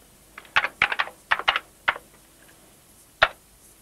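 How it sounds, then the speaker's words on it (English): Name typed on an Amiga computer keyboard, a short burst of close, crisp key clicks in uneven clusters, then a pause and one final keystroke. "Type in a name."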